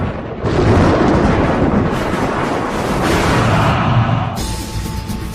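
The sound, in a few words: thunder of an electrical storm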